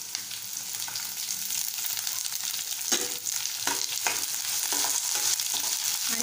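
Chopped capsicum, onion and green beans sautéing in a hot pan for soya chilli, a continuous close sizzle broken by several scraping stir strokes that grow busier toward the end.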